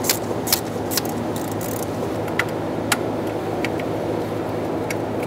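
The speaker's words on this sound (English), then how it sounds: "Slide it right over and pull the studs out that hold the fuel rail on." An E5 inverted Torx socket clicks and ticks against fuel rail studs on a 6.4L HEMI engine of a 2011–2018 Ram 2500, with sharp metallic taps and jingles over a steady background hum.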